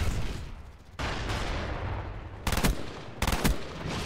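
Gunfire in Black Ops, a multiplayer shooter: a steady rattle of automatic fire runs through the clip, with two louder, sharper bursts near the end standing out over the din.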